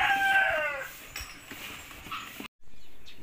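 A bantam and wild junglefowl hybrid chicken, heard up close in a short loud call with bright drawn-out tones, followed by quieter background noise and a brief dropout.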